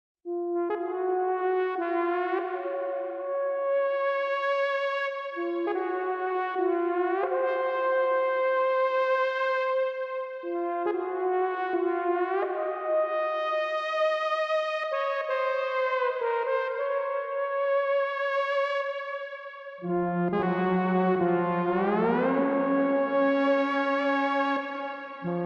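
Sustained tones from a Haken ContinuuMini synthesizer play in slow phrases, brightening and darkening with key pressure as the notes swell, with a reverberant tail; the last phrase slides upward and sounds fuller.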